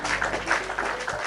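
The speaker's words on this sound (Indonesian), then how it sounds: "mari kita tepuk tangan bersama" A group of students claps together at the close of a school discussion on inclusive education, a brief, fairly faint patter of applause with no talk.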